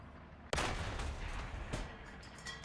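Tank cannon fire in the combat game War Thunder: a sudden loud blast at about half a second with a long rolling tail, then a second, sharper crack about a second later, with no voices.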